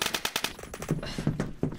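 Rapid automatic fire from the Metro gun in the Phantom Forces shooter game crackles in quick bursts of close, sharp shots, fairly loud with no talk over it.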